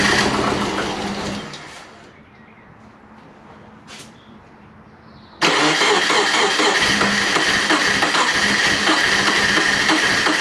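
Subaru engine with a big turbo and big cam: whirring machinery that fades to a lull, then a sudden loud catch as the engine fires and settles into a rough, busy idle that continues to the end.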